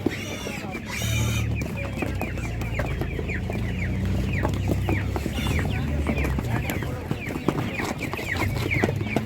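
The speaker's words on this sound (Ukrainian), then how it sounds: "Така курка по 120 гривень" Chickens such as Master Grey and Spanish breeds cluck at a busy Ukrainian animal market, many birds calling in quick overlapping clucks up close, with a sharp squawk near the start and some talk in the background.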